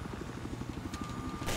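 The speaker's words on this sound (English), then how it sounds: "Watch that chopper. I got that chopper." Helicopter rotor from Battlefield 4 gameplay, a steady low rhythmic thumping of blades with engine whine, continuous and moderately close, rising in loudness at the end.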